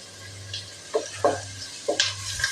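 Spices and turmeric powder fry in a pan for Mangalore-style bonda sukka, a low sizzle broken by four or five sharp scraping stirs of a spoon against the pan.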